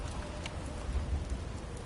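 Storm in God of War Ragnarök: a steady wash of rain and wind, with a low rumbling texture and scattered soft patters, even and fairly close throughout.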